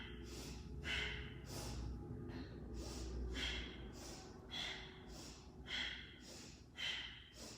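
Deep exhales during yoga twists, a steady series of breathy whooshes roughly once a second, close and soft with faint background hum and no talking.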